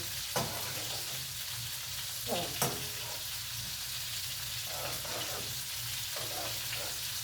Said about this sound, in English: So then I just go ahead and stir it up, mix it up so we get those flavors in there.